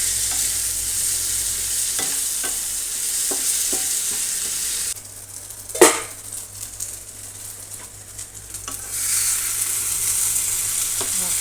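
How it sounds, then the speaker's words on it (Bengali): Potatoes tossed with spices in a hot frying pan for a drumstick curry, a steady sizzle broken by irregular scraping stirs and one sharp clack near the middle, close and fairly loud with no voices. "আলুটা ভালো করে নেড়ে নিয়ে মশলা দিয়ে দেবো"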